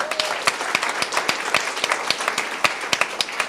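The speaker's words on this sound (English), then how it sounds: "big round of applause for our friends at IBM" Audience applause at an AI startup competition hosted by IBM, a steady wash of many hands clapping with sharp individual claps standing out, fairly loud and continuous throughout.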